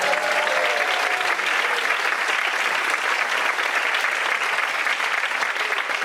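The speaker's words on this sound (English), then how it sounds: "Let's hear a massive round of applause for the brilliant Imran Yusuf." Comedy show audience breaking into dense, loud, sustained applause for a comedian, a full room clapping evenly without letup.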